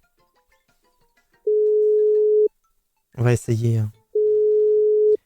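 Telephone dial tone while placing a call, two steady electronic tones about a second long each, with a brief spoken remark between them.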